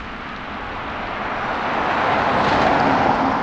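A dual-cab ute running in hybrid electric mode pulls hard up out of a gully while towing a trailer, its broad drive and road roar swelling steadily louder over a few seconds, heard from inside the cabin with no talk.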